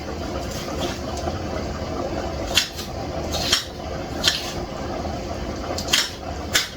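Ingredients for a tuna casserole being chopped by hand in a home kitchen, giving a handful of sharp, irregularly spaced knife strikes over a steady low background hum, with no talking.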